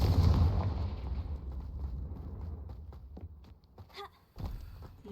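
A Confringo blasting spell explodes in the Hogwarts Legacy game with a loud, deep booming burst that rumbles and fades over a few seconds, followed by smaller crackling impacts and a short thud.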